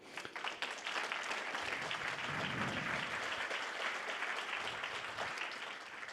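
An audience at a trade-fair opening ceremony applauds warmly, a sustained wash of clapping from a crowd lasting several seconds and tapering slightly at the end, with no talk.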